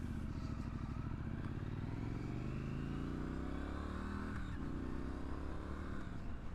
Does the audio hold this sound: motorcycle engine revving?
yes